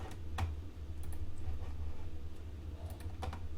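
Keys clack on a computer keyboard in a short, irregular run of close taps and clicks over a low background hum.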